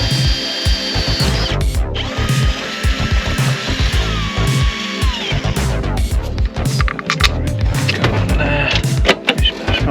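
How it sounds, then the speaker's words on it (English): Power drill boring a hole into a camper van's metal body to bolt on a split charge relay, a steady whine with rising and falling pitch and clattering knocks, close and loud, running almost continuously. "So I'm just gonna drill a hole and just gonna bolt it on."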